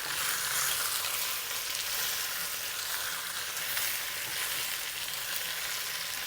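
Chicken meat sears in a clay pot for a braised chicken and mixed mushroom dish, giving a loud, dense, continuous hissing sizzle that stays even from start to finish.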